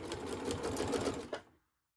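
A sewing machine runs a fast, even burst of stitching as fabric is turned at a corner, close and moderately loud, then stops abruptly into silence.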